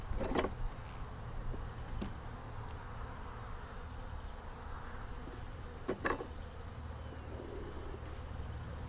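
Honey bees buzz steadily around an open hive during a spring inspection, a dense continuous drone with a few sharper clicks and knocks of hive equipment, no talking.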